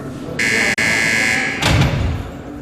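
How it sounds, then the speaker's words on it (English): A prison door buzzer sounds one loud, harsh, continuous tone lasting just over a second, broken by a brief click. A heavy thud follows, all over a noisy background. "The doors, the buzzers, the sound of the buzzers."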